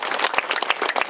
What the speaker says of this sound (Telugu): సో ఒకసారి మనం ఈ ధ్యానానికి చప్పట్లతో స్వాగతిద్దాం.